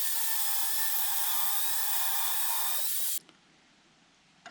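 A power tool cuts through a C2 Corvette steering column shaft for a Borgeson steering box swap, a loud, steady, high-pitched grinding whine for about three seconds that stops abruptly, leaving a faint hum.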